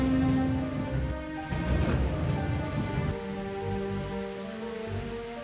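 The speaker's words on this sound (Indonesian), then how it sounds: "Kilat menyambar dan suara petir bergema di istana." Heavy rain pours steadily through a stormy night at a palace, with a low rumble of thunder rolling beneath it and soft music playing alongside.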